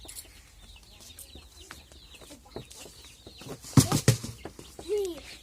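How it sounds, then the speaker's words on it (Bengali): A hen and chicks at a village in the Sundarbans: chickens cluck and scratch nearby, with a burst of wing flapping and a brief squawk; soft chick peeps and faint talk sit underneath. "মুরগি বাচ্চা বের করার জন্য ছুটে আসছে"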